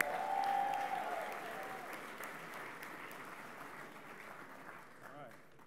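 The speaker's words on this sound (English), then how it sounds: "so give them a big round of applause" A crowd in Houston applauds at a presidential campaign rally, the clapping loud at first, then tapering into a steadier, fading wash of applause.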